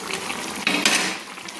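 Fried onion and tomato petals being stirred into a simmering chicken gravy for chicken do pyaza, with a continuous sizzle and a few scraping clinks from a spoon against the pan.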